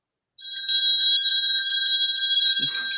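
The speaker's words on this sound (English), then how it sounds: "there's the bell." A bell rings continuously at a whisky festival bar, a rapid bright metallic trill sustained for several seconds, loud and close, with a brief low murmur near the end.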